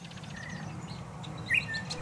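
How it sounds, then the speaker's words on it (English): Small birds chirping at an oasis during a spring trip, with a few faint tweets and one brighter call over a steady low background hum. "soon heard the chirps all around me"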